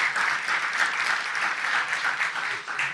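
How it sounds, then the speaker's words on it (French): Awards ceremony audience applauding, a dense steady clatter of many hands clapping close and continuous for the whole few seconds. "Donc, applaudissez encore pour ces 500 personnes."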